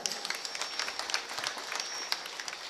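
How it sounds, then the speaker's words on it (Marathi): An audience at a devotional kirtan gathering claps for two singers, a dense spattering of handclaps with a few sharper claps poking out, steady throughout. "जोरात टाळ्या वाजवा एकदा."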